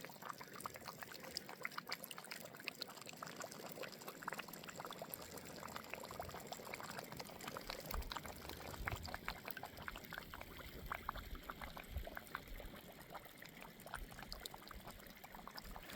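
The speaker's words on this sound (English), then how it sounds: "Here's another good example of the natural gas bubbling up." Natural gas bubbling up through water near a coal-mining bore hole on Malcolm Island: continuous watery bubbling and gurgling, steady and close, with dense little pops running throughout and no voices.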